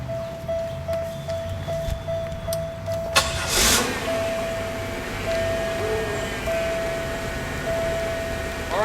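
A car engine cranks and starts with an ignition key, a short burst in the middle. A steady tone, faint rumble and a later whine sit around it in a quiet outdoor scene.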